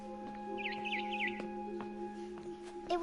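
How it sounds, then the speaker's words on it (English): Barn swallow chirping in the video game What Remains of Edith Finch: a few quick, high warbling chirps early on, heard over a steady low game hum with faint clicks. "It was a barn swallow going back to her nest."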